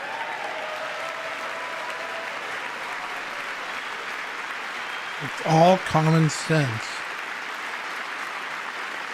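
Applause from the audience at a presidential address to Congress, a steady broad wash of clapping that continues throughout, with a voice speaking briefly over it.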